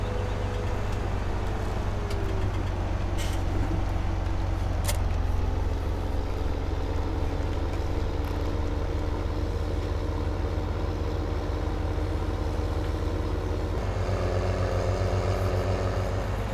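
A Massey Ferguson tractor driving in Farming Simulator 17, its engine a steady close drone throughout, with a brief shift in engine note near the end.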